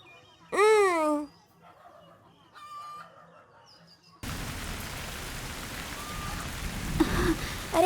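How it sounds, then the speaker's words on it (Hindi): Rain pours down steadily outdoors as an even, hissing wash of drops on surfaces. It starts abruptly after a rooster crows and chickens cluck, then carries on loud and unbroken. "अरे बारिश हो रही है"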